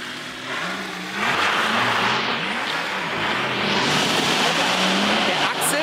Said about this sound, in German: Der Axel fährt mit der Bude quer